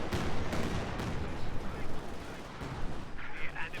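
A Katyusha rocket volley in a video game battle rumbles as a dense, continuous barrage of overlapping blasts and crackles, loud and chaotic throughout with a brief higher whine near the end.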